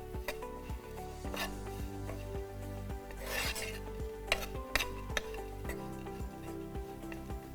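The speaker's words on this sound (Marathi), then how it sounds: "एक चमचाभर खसखस घेतली आहे ती पण आपण ह्याच्याबरोबर भाजून घेऊया" Poppy seeds and a coconut mixture dry-roasting in a pan, with rhythmic scraping, rasping strokes of a spatula and soft crackle, close and fairly quiet.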